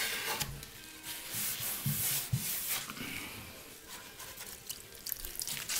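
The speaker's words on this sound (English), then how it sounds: "So just scrub the whole thing down and get in that crack real good." Scrubbing residue off an old end table during a makeover, a steady wet rubbing and brushing sound close by, with slight water sloshing and short bursts of firmer strokes.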